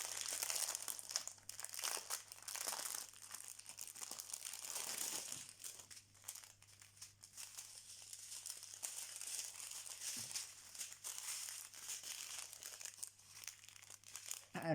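Plastic packaging of a diamond painting kit being handled and opened close up, a soft continuous crinkling and rustling with occasional crunches over a low hum, no speech.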